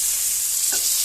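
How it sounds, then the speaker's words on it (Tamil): Peas and sweetcorn sizzle while sautéing in a pan for sweetcorn pulao, a loud steady hiss with a brief scrape of stirring partway through and no talking. "நம்ம பட்டாணியும் ஸ்வீட்கார்னும் நல்லாவே வதங்கிடுச்சுங்க"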